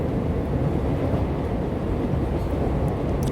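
A train rolls along its rails through autumn countryside, a steady low rumble that stays even and continuous throughout, with no voices.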